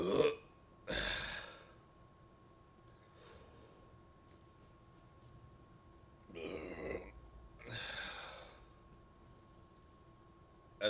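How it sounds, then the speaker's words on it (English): A man burps several times after chugging water, loud guttural belches separated by quiet pauses, the longest two near the end. "Try my best burp."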